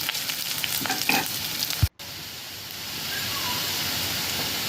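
Onions for a spiced black-eyed pea masala sizzle and crackle steadily in a hot pan, with a brief scraping stir and a sudden short cut before the frying continues evenly.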